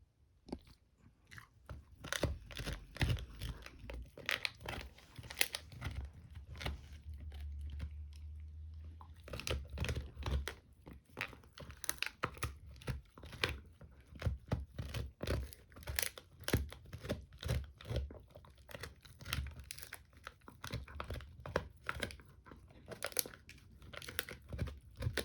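A dog gnaws a bone indoors in the sun after playing in snow, giving close, repeated crunching and biting cracks in irregular bursts with brief pauses, no talk.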